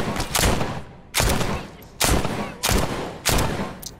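Repeated gunfire aimed at the player's character in The Walking Dead Saints and Sinners VR game. Five loud, close bursts of shots arrive at roughly regular intervals, each with a short decay before the next.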